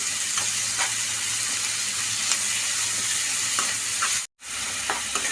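Cut tomatoes go into a hot pan for a tamarind stew with okra and dried prawns, a steady close sizzle and hiss that runs throughout, with faint stirring clicks and one brief dropout near the end.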